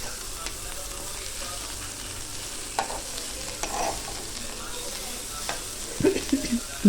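Sliced bitter gourd (kakarakaya), unpeeled, fries in a pan with a constant soft sizzle, broken by occasional scraping stirs and light clinks toward the end.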